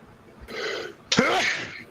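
A single person sneezes nearby, a brief breathy intake followed by a sharp explosive burst that trails off, heard alone with no talking.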